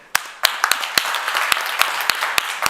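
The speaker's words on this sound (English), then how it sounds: "please, again, let's give a big applause to our panelists" A small audience applauding panelists at the close of a talk on risk-aware urban development, with a modest round of scattered, fairly close claps and distinct loud individual hits over a soft background wash.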